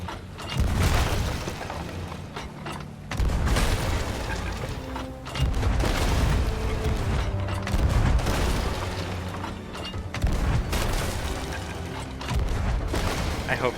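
Cannon fire booms during a ship battle in the video game Sea of Thieves, repeated heavy blasts and clattering impacts in bursts every few seconds, with a player talking.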